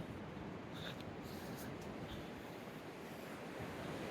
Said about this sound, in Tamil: கீழே ஆறு ஓடுது சத்தம் கேட்கும்னு நினைக்கிறேன் உங்களுக்கு